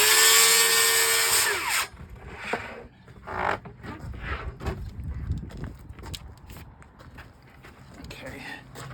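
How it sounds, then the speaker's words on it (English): A power drill bores a hole in wood for an arcade cabinet, whining loudly for under two seconds before winding down. Clattering handling noises and quieter shuffling movement follow. "I have to drill a hole for the, so you can reach your finger in there and turn the power strip on and off"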